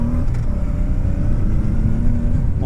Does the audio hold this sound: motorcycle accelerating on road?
yes